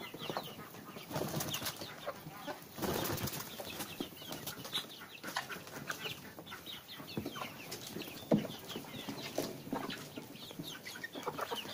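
A box of two-and-a-half-month-old Arab chickens, hens and roosters mixed, clucks and chatters continuously at close range, with scattered sharp calls and brief bursts of wing flapping.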